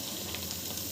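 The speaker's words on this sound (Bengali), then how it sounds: "একটু ধৈর্য ধরে এটা নাড়তে হবে" Homemade ghee sizzling in a pan as it is stirred, a steady, dense bright hiss held evenly throughout a short moment, close by with no other sounds.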